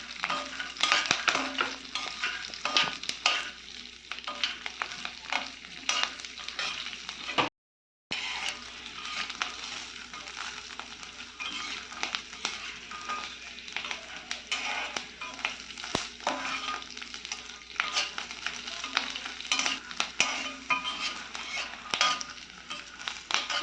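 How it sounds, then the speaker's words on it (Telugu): Peanuts, green chilies and garlic fry in a pan with a steady close sizzle and frequent scraping stirs, running continuously with one brief break. "తర్వాత పల్లీలు వేసుకొని వేయించుకుందాం"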